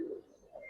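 A Giribaz pigeon gives a brief, soft, low coo, close and faint, followed by a second quiet murmur.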